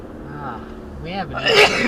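A single close, loud sneeze bursts out inside a car during a drive, with people chatting around it.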